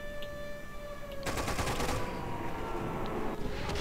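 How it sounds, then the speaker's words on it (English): Machine gun fire in the toy-army strategy game Toy Soldiers, a sudden burst of rapid rattling shots breaking in after a quieter tonal stretch, loud and sustained for a couple of seconds. "if the first two of these are machine guns, does that mean, like, the next one will be a machine gun as well?"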